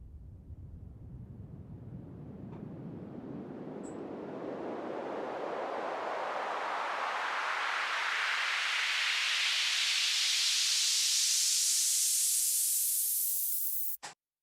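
A synth noise riser from Ableton Operator, shaped by a band pass filter, sweeps steadily upward in pitch over about fourteen seconds as a smooth, loud hiss, then cuts off abruptly at the end.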